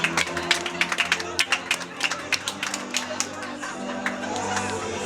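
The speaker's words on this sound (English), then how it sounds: "Clap for your husband." An audience at a breast cancer awareness event claps for their husbands: a patter of scattered handclaps over background music, moderately close, with talk and crowd murmur around it.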